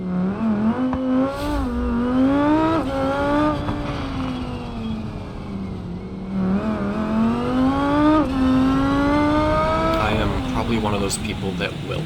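Custom-tuned ETK car engine in BeamNG.drive, revving steadily up and down as it is driven, a continuous loud tone rising and falling over several cycles.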